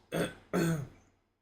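Two short, husky bursts from the throat in quick succession, a small cough or throat-clearing, close and fairly loud with quiet between.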